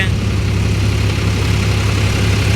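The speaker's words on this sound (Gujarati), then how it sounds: "આજ આપણે ડબલ શાફ્ટિંગ રોટાવેટરમાં ચાલુ છે" A Swaraj 744 FE tractor drives a double-shaft rotavator in a farm field, its engine a loud, steady, deep rumble with a constant low throb that holds without a break throughout.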